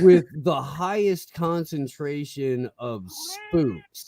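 Pet cat meowing near the microphone, a short rising cry cutting in among several people chatting casually indoors.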